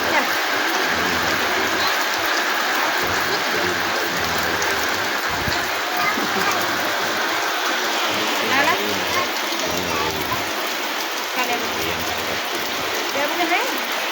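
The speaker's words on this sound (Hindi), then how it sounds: "बहुत ज़्यादा बारिश हो रहा है।" Heavy rain pours down in a village, a loud continuous roar of drops striking surfaces with scattered close splashes and patter, while a voice talks intermittently beneath the downpour.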